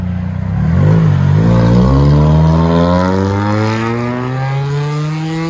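Loud straight-piped exhaust from a 2012 Hyundai Elantra, a deep raspy drone whose pitch climbs steadily as the engine revs up and holds, heard close with no talking.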